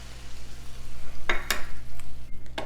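Brussels sprouts sizzle in a pan as heavy whipping cream goes in, giving a steady frying hiss broken by a few sharp utensil scrapes and clinks against the pan.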